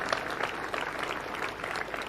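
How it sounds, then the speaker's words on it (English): An audience at a surfing event applauds a ten-time Bells champion, giving a steady burst of dense clapping close by. "Let's give Gail Cooper a round of applause."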